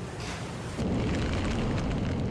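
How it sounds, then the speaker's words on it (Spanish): Deep volcanic rumbling and explosive booms from an active volcano, a continuous broadband roar that grows louder and fuller partway through and holds steady to the end, with no talk. "Bramidos y explosiones se escuchan en las partes bajas del volcán."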